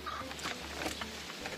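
Chickens cluck faintly in a village yard, short scattered calls over a steady low background hum, with other fowl somewhere nearby.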